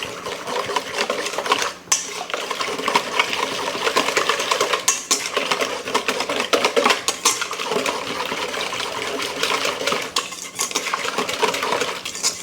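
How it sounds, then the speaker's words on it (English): Rapid metallic clatter of a whisk beating a beef sirloin tri tip marinade with cherry in a bowl, close and busy, with continuous scraping and tinkling and no voices. "We're going to whisk this."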